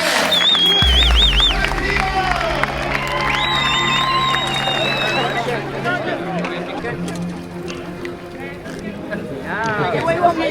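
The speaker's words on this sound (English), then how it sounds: "Give a round of applause" Crowd applause and cheering for race winners at Japfest, a Japanese car show and racing event, with loud, steady outdoor clapping and shouting and people talking throughout.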